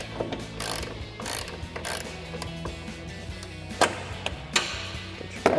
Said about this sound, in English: Get your ratchet wrench out.